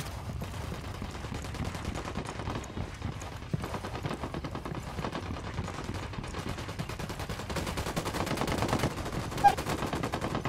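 Rapid, rattling automatic gunfire runs steadily through a firefight in Ghost Recon Wildlands, mostly at middle distance, with one sharper, louder shot near the end.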